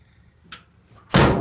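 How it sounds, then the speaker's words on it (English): A 1947 GMC truck door slams shut in a single sharp, loud impact after a brief softer latch click, ringing out for a moment before fading. "slam the door."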